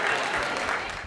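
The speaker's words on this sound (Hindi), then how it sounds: "जोरदार तालियों से आवाज दें सबरस मुरसानी जी।" A crowd at a Hindi humorous poetry gathering claps for a poet, a brief, full burst of applause with voices mixed in.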